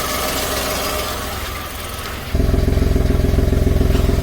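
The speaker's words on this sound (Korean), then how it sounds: "조금 뒤쪽이기 때문에 머플러 쪽 보롱보롱 소리가 들렸었습니다." A Kia Morning engine idles close by, its muffler giving a steady, throbbing burble that becomes louder and more pronounced partway through, with no one talking.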